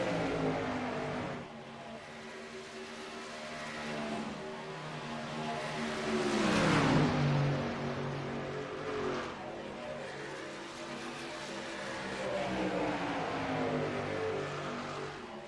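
Racing truck engines drone and rev in a video game truck race at Kansas, a steady layered roar with one loud sweeping pass near the middle as trucks battle close together.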